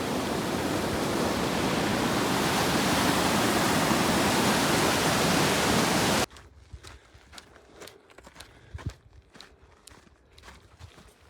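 A river rushes at a Pacific Crest Trail crossing in the Sierra, a loud, steady roar of flowing water that cuts off abruptly to quieter outdoor sounds with scattered footsteps and clicks.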